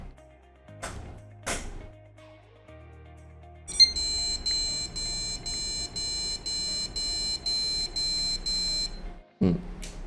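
A computer motherboard with an EVGA RTX 3070 graphics card that is not detected gives a POST beep code: ten short, evenly spaced high beeps over a steady fan hum, preceded by a few clicks and thumps.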